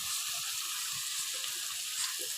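Ground cumin, coriander, turmeric, chili and panch phoron powders with ginger-garlic paste hit hot oil in a pan, giving a steady close sizzle with faint stirring scrapes throughout.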